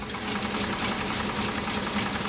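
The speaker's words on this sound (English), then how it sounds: "This is basically a zigzag sewing machine." A White zigzag sewing machine, model 966 or 999, runs a side stitch at width 3 with its presser foot down. It makes a continuous, even motor whir and rattle up close, with no talk.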